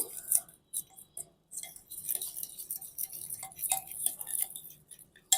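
A spoon clinks and taps irregularly against a bowl while a tandoori marinade of Kashmiri red chilli powder, spices, vinegar and white oil is stirred for a whole chicken, with close, light scraping between the clinks.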